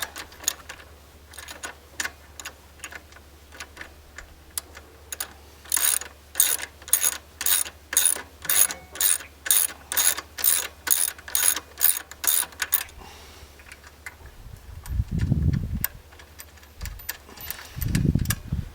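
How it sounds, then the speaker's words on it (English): A socket ratchet loosening the rear shock bolts on a Triumph Scrambler motorcycle: a long run of rapid, evenly spaced ratchet clicks close by, then a pause and a couple of low thuds as the bolt comes free. "so now I'm going to get my socket. Get these off."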